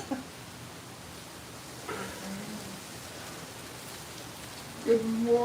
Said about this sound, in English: the rain lashing in here a bit